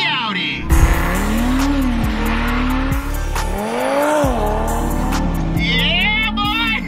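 Audi RS3 with an upgraded turbo accelerating hard through several gears, the engine note climbing and dropping at each shift, loud and close from inside the car, with excited voices shouting over it.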